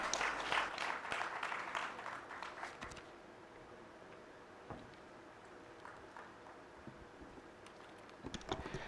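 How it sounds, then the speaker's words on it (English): Audience applause for panelists closing a career fair panel session: a dense burst of clapping in the first three seconds that quickly dies away into a quiet room, with a brief scatter of claps near the end. "Let's give them a hand clap."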